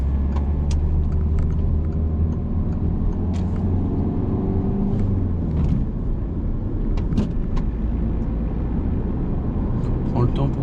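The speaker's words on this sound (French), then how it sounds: "On accélère encore." A car engine hums and rumbles steadily from inside the cabin during a driving lesson, a loud continuous drone that swells as the car accelerates through the gears, with faint clicks and rattles throughout.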